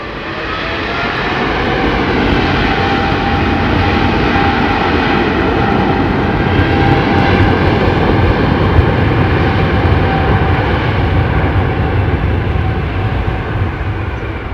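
An old Boeing 777-200 without winglets rolls nearby at London Heathrow Airport, its jet engines producing a loud, sustained roar that swells over several seconds with no voices.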